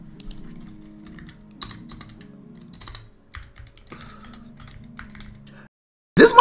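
Rapid clicking keystrokes on a computer keyboard patter close by for several seconds, with faint low voices in the background, followed by a brief loud burst at the end.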